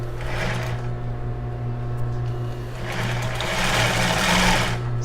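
Sewing machine running steadily and close by while backstitching elastic lace on a bra, a continuous mechanical hum with a brief speed change partway through and no talking.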